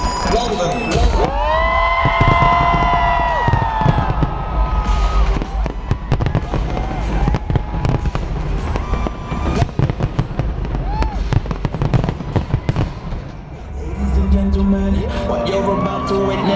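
London New Year's fireworks burst in a dense, continuous barrage of loud booms and crackles, while a big crowd cheers, whoops and shouts close by and long whistling rockets rise between the explosions.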